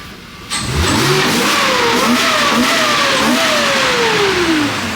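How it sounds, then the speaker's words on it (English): A four-rotor rotary engine in a Supra revs up hard and climbs in pitch, holds a loud high-rpm whine, then drops back toward idle, close by. "rev that thing up real quick"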